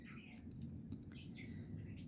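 Bourke's parakeets in a cage chirp and squawk in quick overlapping calls, close by, over a steady low rumble of background noise.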